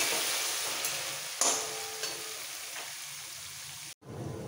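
Fried onions for a Katla fish curry keep sizzling in the pan after a little water is added: a close, even hiss with a few sharp spits, cut by a brief silence near the end.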